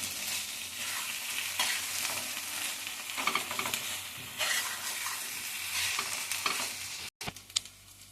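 Potatoes for dum aloo are stirred and mixed in hot oil in a frying pan: a continuous close sizzle with repeated scraping strokes, then a brief cut near the end, and no voices.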